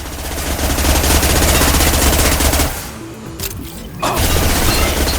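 Sustained automatic gunfire from a spraying weapon in the video game Mass Effect 2: dense rapid bursts with booming impacts, a short drop into near quiet around the middle, then the loud firing resumes.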